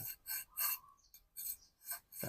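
A knife rasps along thin strips of bamboo being whittled into fine strands, in short repeated scraping strokes of even rhythm, close and moderately loud with brief pauses between strokes.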